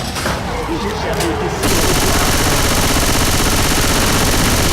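Automatic machine gun fire in Left 4 Dead 2, a loud sustained rattle of rapid shots that thickens into a dense continuous burst after the opening second, with faint talk underneath.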